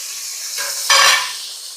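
Chopped onion sizzling in a hot pan, a steady hiss that swells sharply partway through as it is stirred, close and fairly loud with no talking.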